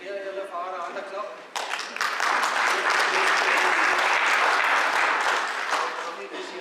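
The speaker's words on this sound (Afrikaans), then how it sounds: "Okay, gee julle vir haar 'n hande klap." Church congregation breaks into loud, sustained applause at a Sunday service, a dense wash of clapping that swells suddenly and holds steady, following brief speech at the start.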